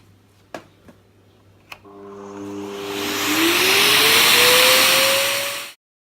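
A Hoover Dustmanager vacuum cleaner on a staircase: a few sharp clicks, then the motor starts with a rising whine that builds into a loud, close, hissing roar of suction before cutting off abruptly.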